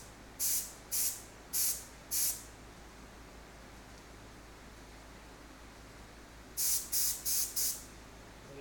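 A paint spray gun fires four short hissing bursts while painting a lathe in a workshop, then after a pause another quick run of four, each puff a sharp, close blast of air and paint.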